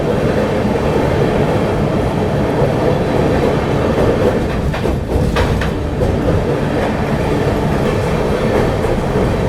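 The 22361 Patna Amrit Bharat Express rolling slowly near the Yamuna river in heavy rain, heard from on board as a loud, steady rumble with faint rhythmic wheel clatter throughout and no talking.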